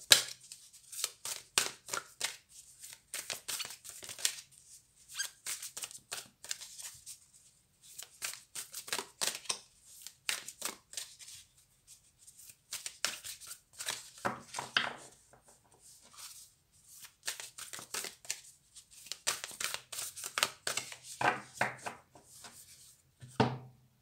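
Small paper message cards being shuffled by hand, producing repeated brisk crisp flicks and riffles in irregular bursts with short pauses, close and fairly quiet.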